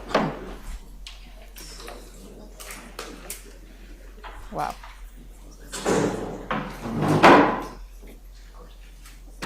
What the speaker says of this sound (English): Slam that door.